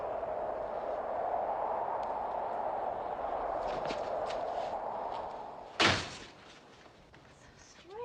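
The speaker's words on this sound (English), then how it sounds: "Well, close the door." An interior door swings shut on a snowy, freezing night with a single sharp slam near the end, following a steady low hum under muffled voices, then a quiet settling after.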